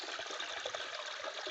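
Water from a waterfall rushes in a dense, steady hiss that does not change at any point, with no voices over it.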